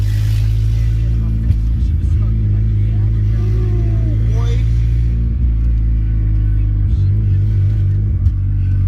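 A turbocharged Honda Del Sol engine runs lean, holding a steady, loud idle rumble close by with a few faint rev blips and some background voices.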